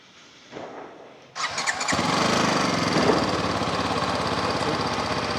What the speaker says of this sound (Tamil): ஸோ வண்டியை ஆன் பண்ணி காட்டுறேன் எப்படி இருக்குன்ட்டு.